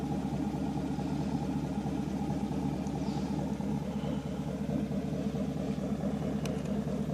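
A 2014 Chevrolet Silverado with a custom straight-pipe center exhaust idles in a steady, deep, throbbing rumble, close and continuous without talk.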